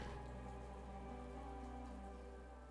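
Steady rain falls across Tormund, the rainy city in the video game Chained Echoes, a dense continuous patter with a low rumbling bed, even and uninterrupted with no voices.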